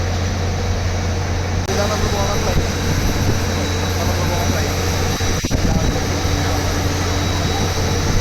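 At an airport before boarding a flight to Delhi, a loud, steady drone of aircraft engines and air handling fills the whole clip without letup, with a low hum beneath and a brief clatter near the end.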